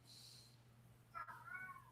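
A cat meows somewhere indoors in another room: one faint, drawn-out meow rising out of quiet room hum, heard at a distance.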